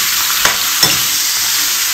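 Garlic sautéing in a pan gives a loud, close, steady sizzle of frying with a couple of soft stirring scrapes, a constant hiss throughout, no talking.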